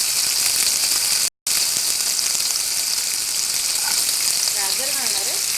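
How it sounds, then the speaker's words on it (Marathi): Potatoes and mixed vegetables frying in hot oil in a pan, a loud continuous sizzle with a short cut of silence early on and faint whistly tones in the background near the end. "आता मी भाज्या घालून फ्राय करून घेणार आहे।"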